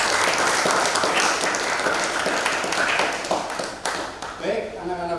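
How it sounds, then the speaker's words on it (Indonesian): A class of pupils claps their hands together in dense, continuous applause that tapers off near the end, with some voices mixed in. "Tepuk tangan kita semuanya."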